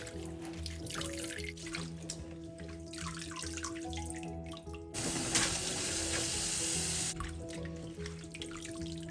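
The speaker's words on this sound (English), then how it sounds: "We would want to wash them all together so that everything will be evenly mixed" Running tap water washing bean sprouts and chives in a kitchen, a splashing gush that grows louder midway, then eases back to trickling and dripping.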